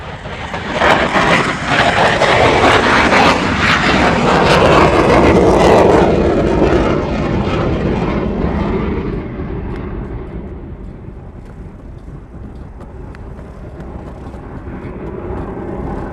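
A B-52 bomber taxis off the Hickam ramp at Honolulu airport: a loud, continuous roar of jet engines that swells, peaks, then eases into a lower steady rumble as the aircraft moves on.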